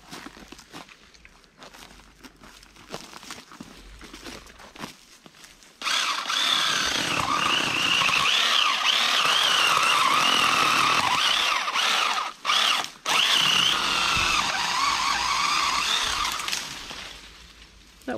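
A saw clears brush on a farm to open a path for a tractor. After a quieter stretch of handling noise, it starts and runs loud and steady close by, with a couple of brief dips partway through.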